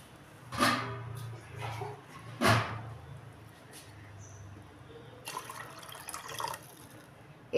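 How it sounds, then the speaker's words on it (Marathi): Water is poured into a cooking pot over fried onions while making chunvadi, heard as several separate splashing, trickling pours with brief gaps, fairly close. "आता आपण पाणी टाकू, अर्धा गंज पाणी टाकून घेऊ."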